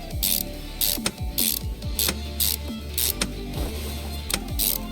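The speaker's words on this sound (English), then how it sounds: "Bolt this back down." A ratchet rapidly clicks as parts are bolted down in Car Mechanic Simulator 2021, coming in repeated short bursts of fast mechanical ticking separated by brief pauses, loud and close with no talk.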